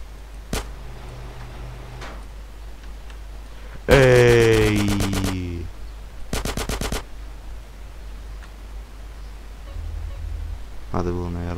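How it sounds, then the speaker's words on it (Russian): Gunfire in GTA San Andreas: a long rapid burst of automatic shots, then a shorter burst and later another volley, loud against quiet game ambience with a few single reports. "Сейчас я выстрелю в этот замок"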